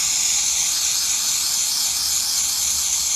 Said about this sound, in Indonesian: Jadi misalnya ini kan handuk, terus ini dikocok dulu, setelah dikocok terus disemprot sekitar 1 menit katanya gitu.